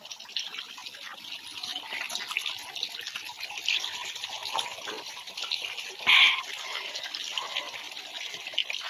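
Water rushing and splashing at Kamay ni Jesus, a steady, hissing flow with one brief louder gush partway through, fairly faint and without talk.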